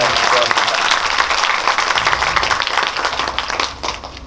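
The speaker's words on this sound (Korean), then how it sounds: "여러분 함께 우리 정지영 감독님의 40주년 축하 박수 어떠십니까?" A cinema audience at a Megabox Coex screening talk applauds director Chung Ji-young's 40th anniversary, a loud, close burst of many hands clapping that tapers off at the end.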